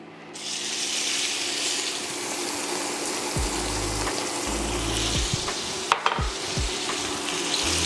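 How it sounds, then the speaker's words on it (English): Beef short ribs sauté in a hot pot, a loud, steady broadband sizzle running throughout, punctuated by low thumps and scraping stirs of the meat against the pot. "Now we just gonna saute these down and render these down until they become golden brown."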